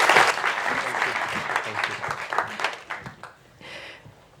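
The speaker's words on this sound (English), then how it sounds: "Round of applause." Audience applause at an education innovation summit award ceremony, dense clapping that starts loud and gradually thins and fades over several seconds.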